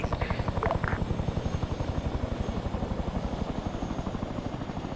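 A Chinook helicopter in the video game Arma 3 thumps steadily and loudly nearby, its rapid rotor pulses continuous throughout, with a brief voice faintly audible early on.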